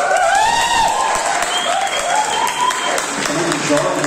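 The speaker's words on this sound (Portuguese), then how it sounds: "Uma salva de palmas para os nossos jovens" Applause for the young people at a church's 60th anniversary celebration, a warm, sustained clapping from the congregation filling the room, with a voice speaking over it.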